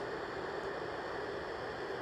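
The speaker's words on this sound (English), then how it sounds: "So I have the sound machine and I just turned it on." Steady, even hiss of white noise from a sound machine runs unbroken and fairly faint, with no variation or other sounds.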